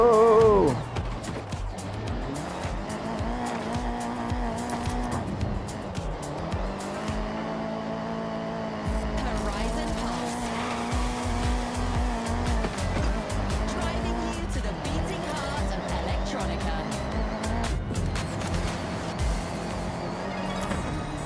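A race car in the video game Gran Turismo drones through shifting engine pitches with tire squeals and skids, its revs rising and dropping continuously while people talk over it.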